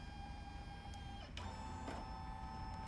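A Brother Dream Machine 2 embroidery machine runs at a trade show, giving a steady mechanical whir with a high whine and a couple of brief clicks.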